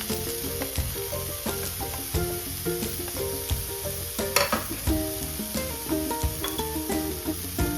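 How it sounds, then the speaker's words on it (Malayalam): Finely chopped beetroot, 250 grams for a Kerala-style thoran, is stir-fried in a pan: a continuous close sizzle with repeated scraping and tapping of the spatula against the pan, and no voices. "ഇനി ഇതിലേക്ക് ഇരുന്നൂറ്റമ്പത് ഗ്രാം ബീറ്റ്റൂട്ടാണ് അത് ചെറുതായിട്ട് അരിഞ്ഞത് ഇതിലേക്ക് ചേർക്കാം"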